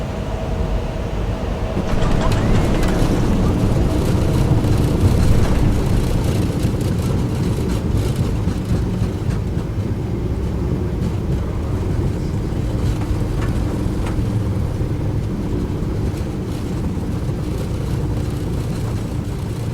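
A PMDG Boeing 737-800 rolls for takeoff in Microsoft Flight Simulator, its jet engines giving a loud, steady rumbling roar that swells slightly early on and holds throughout.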